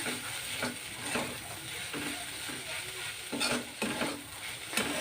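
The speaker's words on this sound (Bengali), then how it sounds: "এটাকে আমি 4 থেকে 5 মিনিট ভাবে নাড়াচাড়া করা হয়ে গেছে।" Chopped kalmi (water spinach) greens with garlic being stirred and fried in a pan, giving a steady sizzle broken by scraping spatula strokes at an uneven rhythm, close and moderately loud.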